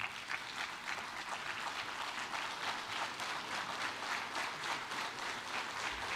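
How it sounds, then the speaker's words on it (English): Steady, dense applause fills a large hall as an audience welcomes the Principal Chief of the Cherokee Nation at a Jr. Miss and Miss Cherokee competition, continuous and even throughout with no talking over it. "Please put a warm round of applause together for the Principal Chief, Mr. Chuck Hoskin, Jr."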